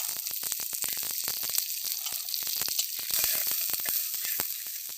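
Mustard seeds and urad dal sizzle and crackle in hot oil in a clay pot, a steady close hiss broken by dense, rapid popping spatters throughout, with no talking.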